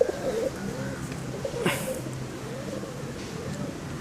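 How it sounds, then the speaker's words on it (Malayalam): Pigeons in a loft coo in low rolling calls, several birds overlapping steadily, with a brief flutter or rustle midway, mixed with faint background voices. "പിന്നെ ഏകദേശം തമിഴ്നാട് പ്രാവുകൾ"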